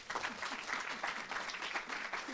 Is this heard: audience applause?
yes